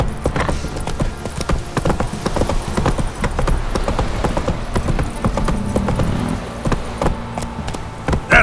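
Roach, Geralt's horse in The Witcher 3, gallops with rapid, continuous hoofbeats under game music and ambience, and the clopping stays loud and close the whole time.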